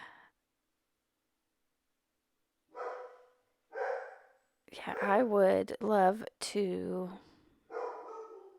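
A dog gives short, separated barks with gaps of silence between them, while someone speaks briefly over the middle stretch.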